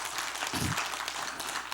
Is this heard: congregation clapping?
yes